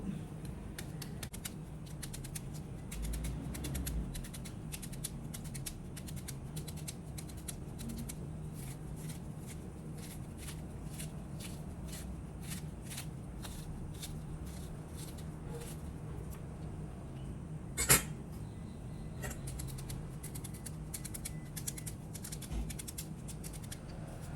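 A knife chops banana flower on a board in a home kitchen, tapping in quick, steady, close strokes for the whole stretch, with one sharper knock near the end.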